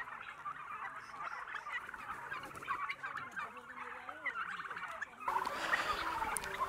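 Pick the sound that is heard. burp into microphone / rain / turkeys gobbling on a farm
turkeys gobbling on a farm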